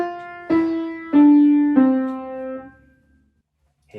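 Piano plays a short beginner's phrase of four clearly separated notes, each struck and left to ring with decaying overtones, close and moderately loud, followed by near silence and a faint sound at the very end.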